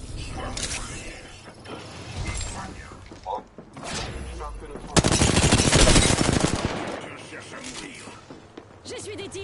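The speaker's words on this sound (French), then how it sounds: "J'essuie des tirs." Rapid automatic gunfire and single shots crackle through a French-language shooter game session, loud bursts with a dense barrage in the middle, mixed with mechanical clicks and thuds while players talk over it.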